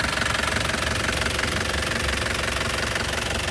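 A 2008 Isuzu Panther LS turbo diesel with manual gearbox idles close by, its steady diesel clatter knocking evenly and loudly through the whole stretch with no voices over it.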